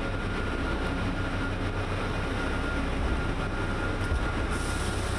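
A diesel work train rumbles steadily through a metro tunnel at night, a continuous loud low drone and clatter with no voices.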